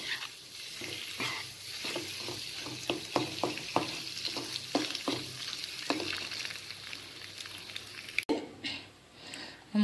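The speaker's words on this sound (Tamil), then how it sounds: "எக்கை வந்து நம்ம இதில் போட்டு பெரட்டி எடுத்துடலாம்." Boiled eggs fried and tossed in masala in a pan for egg biryani sizzle steadily, with repeated close stirring and scraping knocks through most of the clip, then a quieter stretch after a short break.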